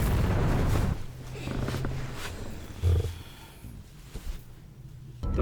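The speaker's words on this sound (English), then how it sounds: "Dr. Brand, Cooper, there's been an explosion" A heavy roaring explosion from the film Interstellar opens loud and close, then trails into a low rumble and quieter scattered sounds, with a faint voice at times.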